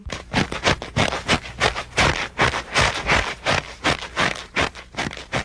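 Rhythmic crunching crackles of frost repeat in quick, uneven bursts, like frozen snow or ice being pressed and broken, close and fairly soft.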